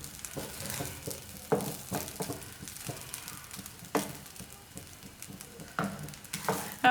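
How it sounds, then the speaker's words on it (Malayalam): Rice for cauliflower (gobi) fried rice is stirred and tossed in a hot pan, with a soft continuous sizzle under repeated scraping and knocking strokes of the spoon against the pan, close and steady. "റൈസ് നന്നായിട്ടൊന്ന് മിക്സ് ചെയ്ത് കൊടുക്കുക."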